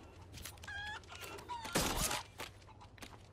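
Chickens cluck in Resident Evil 4 VR in a few short bursts, fairly faint, with a squawk partway through and brief quiet gaps between calls.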